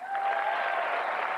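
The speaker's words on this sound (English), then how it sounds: "A great cheer for Arthur Scargill" Delegates at the 1994 Labour Party Conference applaud and cheer for Arthur Scargill, a brief dense burst of clapping from a large hall crowd.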